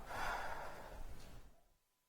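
During a yoga session, a single deep breath is let out as a soft, airy sigh, close and quiet, fading away into silence after about two seconds.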